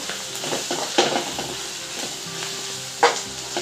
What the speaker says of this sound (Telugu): పసుపు అల్లం పేస్ట్ ఇవి కొంచెం ఆయిల్లో ఇవి కూడా ఫ్రై కానివ్వాలి రొయ్యలతో పాటు